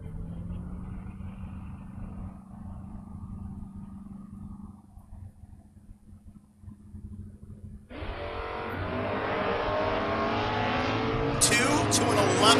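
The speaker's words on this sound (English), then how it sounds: "McLaughlin in the Mustang 597 dialing, going to chase down the Aspen wagon" Drag racing cars on a strip, with a Mustang chasing an Aspen wagon: a low engine rumble under talk, then a loud, rising roar of engines launching and accelerating that continues to the end.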